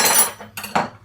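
A knife dropped onto a kitchen counter during cake baking gives a sharp metallic clatter, then a few lighter rattling bounces as it settles, close and alone.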